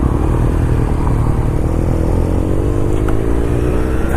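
A 2018 BMW R1200RT motorcycle pulls away, its engine note loud and steady up close with a rising drone and light mechanical clatter throughout.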